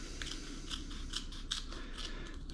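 Curved scissors snip through kinesiology tape, a run of crisp, close cuts at an uneven rhythm, with no talking.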